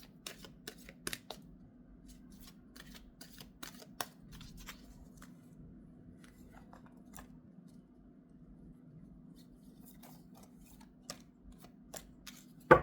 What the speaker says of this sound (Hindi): एक कार्ड निकाल रही थी, दो आ गए हैं तो मैंने दोनों रख लिए हैं